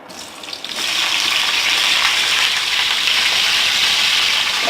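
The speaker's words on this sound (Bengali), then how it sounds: "বেগুন আর আলুটা একটু ভেজে নেব।" Potato and eggplant pieces frying in about four spoons of oil give a steady, loud hiss and sizzle that starts up after a moment and holds evenly with no talking.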